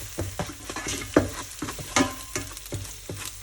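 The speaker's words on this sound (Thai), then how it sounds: "แล้วก็ยียีไข่นะครับ" Beaten eggs are stirred and fried in a pan for a Thai pumpkin-and-egg stir-fry breakfast, with steady sizzling and quick repeated scraping strokes of a utensil against the pan, close and clear.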